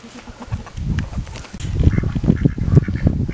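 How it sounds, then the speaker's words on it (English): A flock of ducks quacks noisily and continuously at close range, with overlapping, bustling calls that grow louder as they wait to be fed. "my ducks are ready to get fed"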